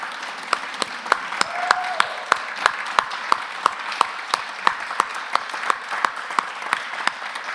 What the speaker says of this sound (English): So if the staff of GradDiv could stand up and get an applause